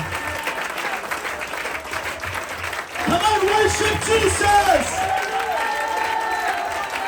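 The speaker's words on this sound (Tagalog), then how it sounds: "Malakas naman ang palakpak para sa ating Panginoon" Church congregation applauding at a UPC service in Muntinlupa, a steady mass of clapping that swells mid-clip, with a voice calling out over it and musical tones underneath.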